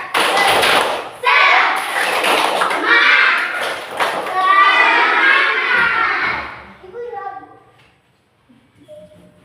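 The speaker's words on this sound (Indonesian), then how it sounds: "Tepuk semangat." Schoolchildren in a classroom perform a rhythmic clapping chant with their teacher, a bright burst of claps and shouted voices near the listener that carries for several seconds, then thins out into a few scattered claps and murmurs before falling quiet.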